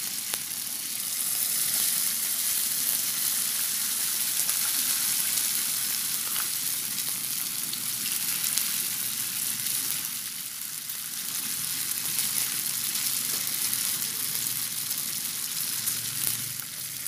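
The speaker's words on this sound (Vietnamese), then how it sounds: "Thì các bạn chiên cho nó hơi vàng như thế này nè các bạn." Tofu skin shaped as vegan dried fish deep-fries in hot oil, giving a loud, continuous sizzle and crackle that hardly changes for over fifteen seconds.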